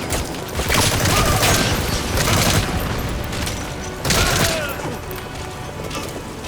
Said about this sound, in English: Cover fire. In hot. Rocket salvo. Rocket salvo.